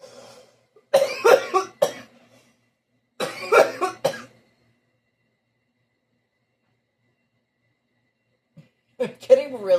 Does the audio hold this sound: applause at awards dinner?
no